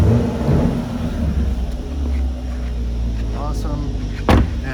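A 2018 Chevrolet Camaro 2SS V8 idling in track mode, a loud deep rumbling engine close by with a brief rev swell near the end.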